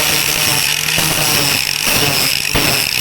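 An angle grinder cleans up the edges of plasma-cut steel for welding a skate rail, a loud, close, steady high-pitched whine with a few brief dips as the disc shifts along the metal.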